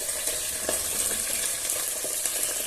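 Chopped onion frying in a pan, giving a continuous, even hiss of sizzling oil with a few soft stirring clicks, close and without voices.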